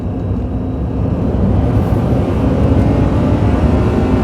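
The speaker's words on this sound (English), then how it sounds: "That little engine, twin cam, 3-cylinder engine, screaming away." Twin-cam three-cylinder turbo engine of a 2012 Daihatsu Tanto Custom RS Turbo kei car revving in sport mode while driving, a steady loud droning hum with road noise that builds slightly in intensity.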